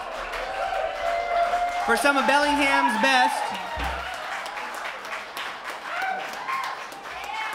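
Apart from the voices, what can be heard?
audience applause for the big band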